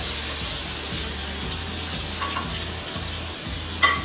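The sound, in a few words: ginger and spices frying in hot oil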